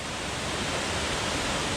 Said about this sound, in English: I see 3 waterfalls just right there